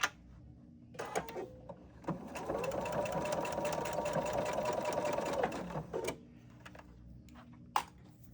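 A sewing machine stitches fabric for a Daisy Sweet Stash envelope, with a steady rapid mechanical run of about four seconds framed by short start-and-stop bursts and clicks, close and fairly loud.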